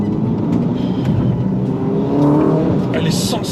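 A Ferrari SF90 Stradale accelerating hard, its engine note climbing in pitch as it gathers speed: a loud, close, continuous roar.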